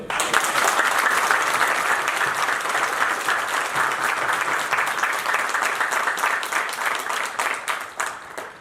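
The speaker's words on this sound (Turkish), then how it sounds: "Bu değerli kardeşime Allah razı olsun için bir alkışlayın." An audience at the Yeni Malatyaspor club meeting gives sustained, dense, loud applause that holds steady for several seconds, then tails off near the end.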